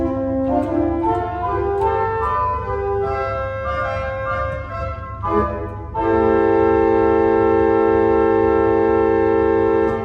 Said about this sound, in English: the first stop on the grate, you may be amazed to hear, is an 8-foot open diapason